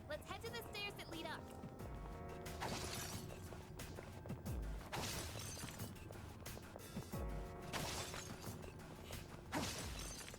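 Crystals shattering in the video game Persona 3 Reload, several sharp breaking crashes spread across the stretch over a busy bed of game music and effects.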